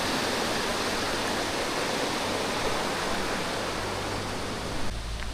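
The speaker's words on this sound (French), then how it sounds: "C'est la cascade." Grojogan waterfall in Java, Indonesia, a loud, steady, full roar of falling water close by, unbroken throughout with no voices.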